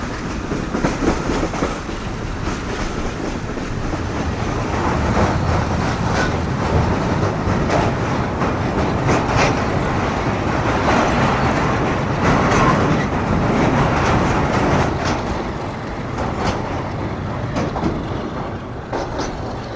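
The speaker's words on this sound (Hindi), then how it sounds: "ट्रेन हमारी बस पहुंचने वाली है दरिया सिंध के ऊपर बने हुए मेहरान ब्रिज पर" The Pak Business Express passenger train rolls onto the Mehran Bridge over the Indus, a continuous loud rumble with rattling carriage clatter and rhythmic wheel clicks, heard steadily from inside the moving train without voices.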